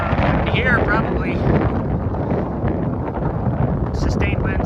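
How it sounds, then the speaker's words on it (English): Strong wind gusts of around 45 to 50 miles an hour roar across the microphone outdoors near a goat farm, a loud, constant buffeting rush, with a voice faintly audible underneath. "50-mile-an-hour wind, 45-mile-an-hour wind."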